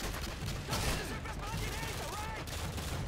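Gunfire from the Modern Warfare 2 video game during the favela level: dense, continuous bursts of shots and explosive cracks fill the whole stretch at a steady, loud level, with some voice-like sounds mixed in.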